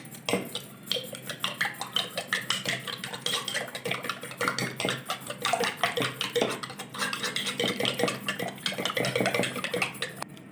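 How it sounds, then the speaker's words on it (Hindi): Eggs beaten hard with a utensil in a bowl, a fast steady run of close clinking taps lasting several seconds with no pause. "अंडों को अच्छी तरह फेंट लेंगे"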